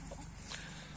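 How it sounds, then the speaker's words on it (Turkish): Chickens just let out into a new green feeding and roaming area give soft, steady clucking, with one brief louder call midway, close by and without talk. "Şimdi buraya saldık tavukları."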